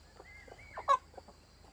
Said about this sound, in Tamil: கோழிக்கு அரிசி போட்டுருக்காங்க போல, பொறுக்குது கோழி.